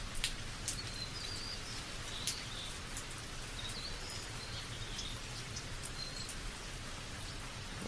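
Steady rain pattering on surfaces with occasional louder drips, while faint birds chirp in the background.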